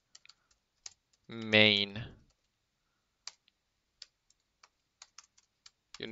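C code being typed on a computer keyboard, sparse individual key clicks spaced out over several seconds, close and crisp, with someone speaking briefly in between.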